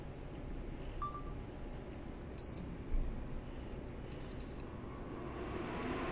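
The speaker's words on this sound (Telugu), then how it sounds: "టైమర్ ఆన్ చేసుకుందాము." An induction cooktop timer gives a few short electronic beeps as it is set, a quick single chirp followed by a pair of brief tones, over steady kitchen background noise.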